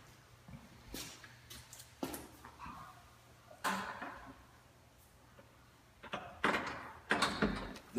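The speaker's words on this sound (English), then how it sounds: "a nice pair of Douglas fir French doors that open up in the backyard" A pair of Douglas fir French doors opening onto a backyard give several scattered knocks, clicks and brief rubbing sounds up close, irregular and separated by quiet gaps.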